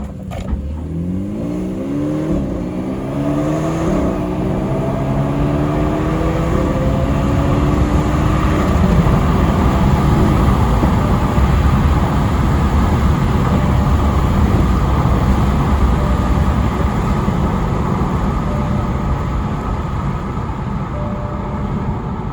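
A 2014 BMW 220i with a forged-internal N20 engine accelerates hard in sport mode, its gearbox shifting on its own. The loud, close engine note rises in repeated sweeps through the gears, then settles into a steady drone.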